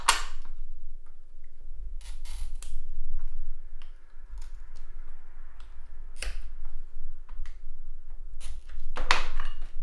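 Stained glass being cut and trimmed by hand, with sharp ticking snaps and scratchy scoring bursts spaced irregularly over a faint steady hum, close and fairly loud, no talking.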